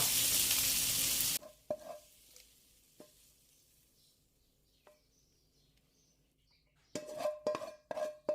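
Pork belly with herbs and shrimp paste being stirred in a pan, off the heat: a loud initial burst of sizzle, then scattered scrapes and clinks of the utensil, and a cluster of stirring clatters near the end.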